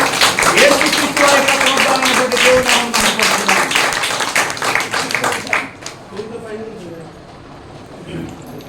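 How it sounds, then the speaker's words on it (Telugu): A church congregation claps rhythmically in unison at a cake-cutting celebration, loud sharp beats for several seconds that then thin out and fade, with a voice speaking over the clapping. "అందరూ చప్పట్లు కొట్టి"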